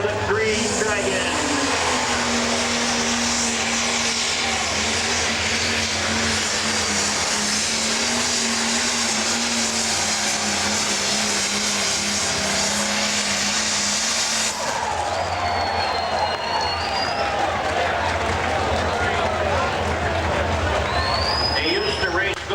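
The Green Dragon pro stock pulling tractor roars loud and close at a tractor pull, its engine a sustained high droning howl that cuts off sharply partway through, with an announcer talking over it.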